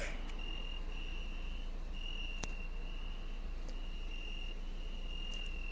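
Steady cricket chirping runs through the whole stretch over a constant outdoor evening hiss, with a thin high tone recurring in pulses; no one speaks.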